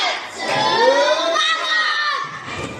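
A classroom audience of children at an Indonesian school doing a rhythmic spirit clap chant, loud young voices shouting together in a sustained, excited burst.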